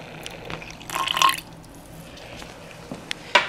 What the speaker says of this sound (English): Okay, then I will add the 25 milliliters of water.